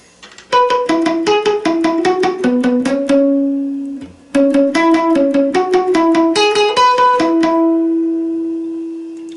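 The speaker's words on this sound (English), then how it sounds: "So the whole lead part sounds like this" Electric guitar plays a lead part as a double-note line, with quick plucked notes in two bursts split by a short gap, clear and close with no voice over it.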